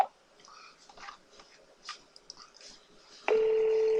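A telephone call being placed: faint handling noises, then a loud, steady electronic tone starts abruptly and holds to the end.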